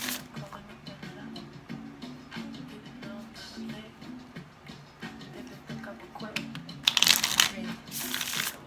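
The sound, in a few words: tarot cards being shuffled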